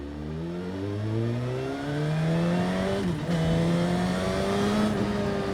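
A 2021 Suzuki Katana motorcycle accelerates hard on a wet road, its engine note climbing through several rising revs with gear changes between them, loud and close with no talking.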